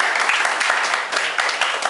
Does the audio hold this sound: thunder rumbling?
no